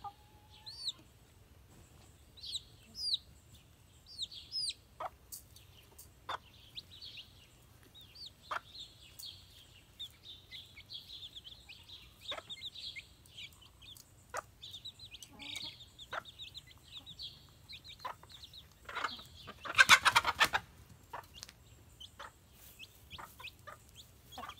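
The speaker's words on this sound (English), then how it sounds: "Brought them water, and that was about 30 seconds of them just drinking nonstop." Backyard chickens drinking water after being thirsty, with scattered soft clucks and short calls from several birds, plus light tapping and shuffling, at moderate distance with one brief louder burst near the end.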